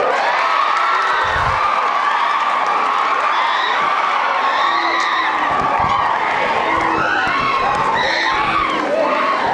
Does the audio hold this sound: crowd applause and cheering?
yes